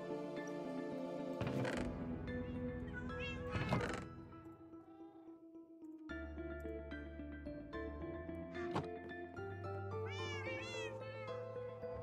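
A cat meows repeatedly in a video game, the calls rising over steady game music and mechanical sound effects, with a louder burst near the start and several clear meows toward the end.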